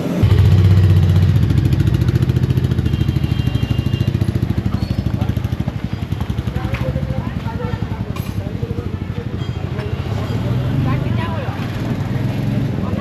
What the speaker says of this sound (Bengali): শান্তনু এখন আমার বাইকটা চালিয়ে দেখতে গেছে